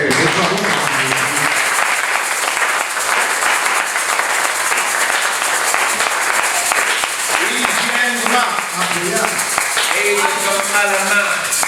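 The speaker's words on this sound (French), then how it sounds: "Applaudissez pour le Seigneur" A church congregation applauds during a French-language sermon, sustained loud clapping filling the room, with voices and cheering rising over it toward the end.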